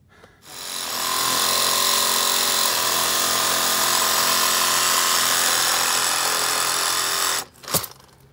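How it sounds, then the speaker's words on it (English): A power saw, a circular skill saw or reciprocating sawzall, cuts into wooden structure during a honey bee hive removal, a loud steady whine running about seven seconds alone before stopping with a short thud. "try to do it with the skill saw and the sawzall"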